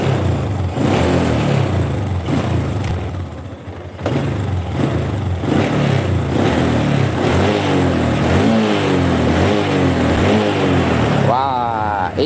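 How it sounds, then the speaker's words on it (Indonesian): A Honda Supra motorcycle engine runs close by with bursts of revving and rising, falling pitch, loud and continuous across the whole stretch, ending in a sharper rev sweep; someone talks over it. "Nih suara mesin adem-adem aja nih, nggak ada yang terlalu nih."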